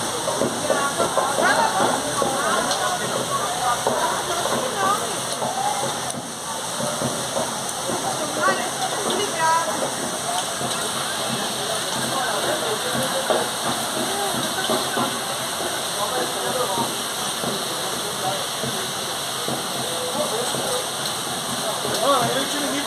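Water gushing from a burst Sabesp water main in central Jandira, São Paulo, a continuous loud rushing, splashing roar under voices talking throughout.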